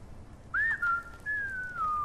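A whistle sounds in the Skyrim video game, with several clear, faint whistled notes: a short rising chirp and then a long, gently falling tone over quiet background.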